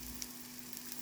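Cassava flour galettes sizzle in a pan with a soft, steady frying hiss, faint and close, over about a second.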